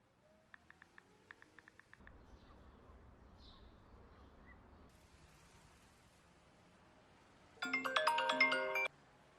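A mobile phone ringtone signalling a missed call bursts out loud and bright for about a second near the end, after a quieter stretch of faint background noise and brief beeping tones.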